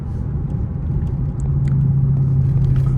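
A Dodge Hellcat widebody with 717 horsepower running, a loud, steady low engine rumble that grows a little fuller over three seconds, heard from inside the car.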